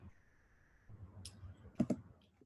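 A few light computer keyboard clicks come as a search term is typed, soft and close in a quiet room, with a brief pair of sharper taps near the end.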